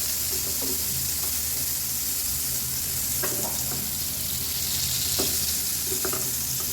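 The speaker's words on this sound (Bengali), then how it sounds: "এই যে এক পাটে হয়ে গিয়েছে, এখন উল্টিয়ে দেবো, অপর পাট ভেজে দেবো" Eggplant slices fry in hot oil with a steady, close sizzle, broken by a few soft clatters as the pieces are turned over.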